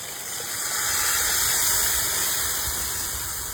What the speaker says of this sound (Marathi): ग्रेव्ही आपण व्यवस्थित परतून घेऊ।